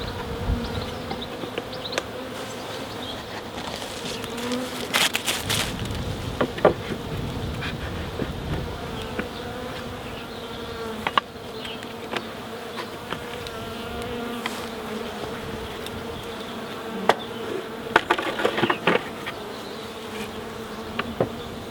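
Honey bees buzz in a dense, constant drone while being put into nucleus boxes, with occasional knocks and bumps from nearby handling.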